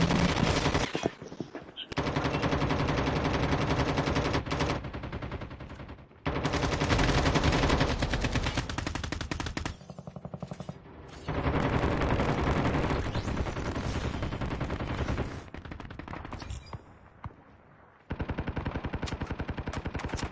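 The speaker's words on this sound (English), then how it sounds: "sniping. Somebody is sniping." Rapid, loud sniper and automatic gunfire from the mobile shooter game Call of Duty Mobile, in long sustained bursts with brief pauses between them.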